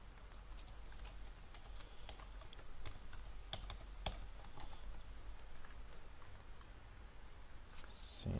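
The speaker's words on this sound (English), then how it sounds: "Seems I need to enter my password slowly." Someone types a password on a computer keyboard, producing a quiet, irregular run of close key clicks with a few sharper taps and no talk.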